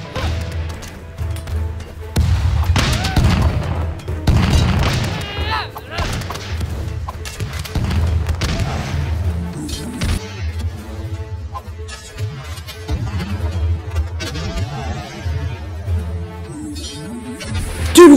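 Muskets fire in the video game TABS, a series of booming shots and crashing impacts in a busy battle, loud and clustered early, then thinner clatter with occasional cracks, with some voices underneath.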